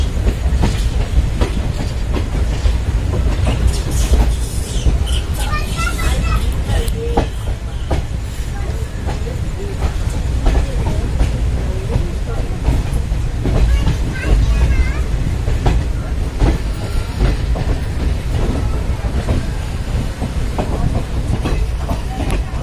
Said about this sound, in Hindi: ट्रेन अपनी रवाना हो चुकी है चंदोसी जंक्शन से।